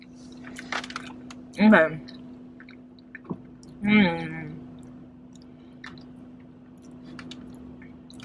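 A Dunkin' brownie batter donut is bitten and chewed close up, with a couple of soft squishy bites and mouth sounds amid quiet pauses, and a brief spoken word.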